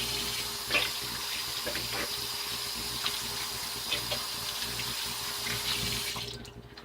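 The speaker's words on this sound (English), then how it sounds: "Let me wash my hands off." Tap water runs steadily into a kitchen sink while hands are washed, a close, continuous splashing hiss with small irregular splashes, cutting off just before the end.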